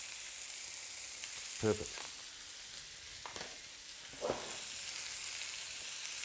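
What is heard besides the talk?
beef steak searing in frying pan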